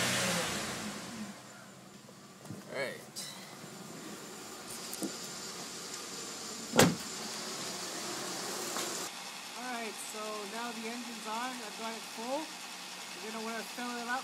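A 2004 Chevrolet Malibu engine runs at a steady idle during a transmission fluid change, with a few brief revs. Someone talks over it throughout.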